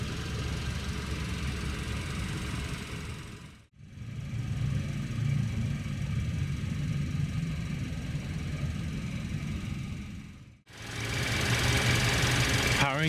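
A 2017 Hyundai Sonata SE with a 2.4-liter direct-injected four-cylinder gas engine running steadily, a close, even rumble with a faint ticking texture that cuts out briefly twice.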